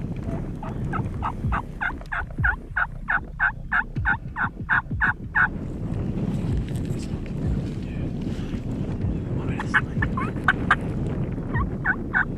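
Rapid, rhythmic yelping calls from a wild turkey during a spring turkey hunt come in a long run of sharp notes, then a quieter stretch with wind noise, then more yelps, outdoors in the woods.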